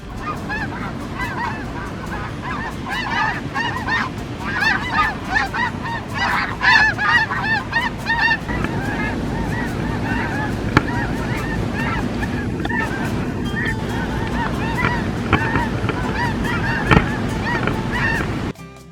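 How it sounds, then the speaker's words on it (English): A large flock of snow geese honks continuously at a New Mexico wildlife refuge, a dense clamor of many calls rising and falling over wind noise on the microphone as the birds take off. "There's some snow geese taking off right over there."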